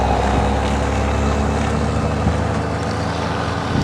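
Heavy Peterbilt and Freightliner trucks roar past on an open highway, a loud, steady engine rumble with wind buffeting the microphone throughout.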